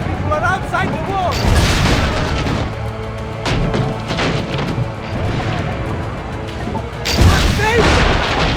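Cannon fire during a siege at the town walls in Assassin's Creed Brotherhood: heavy booms and crashing blasts amid battle clamour, with shouted voices talking over the noise throughout.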